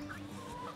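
Chickens on a free-range farm cluck near a chicken tractor while birds are caught for processing, a short burst of close, low clucks with no talk over them.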